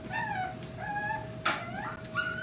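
A dog at a pug rescue facility whimpers and yips in a few high, wavering cries, fairly close, with a sharp noise midway.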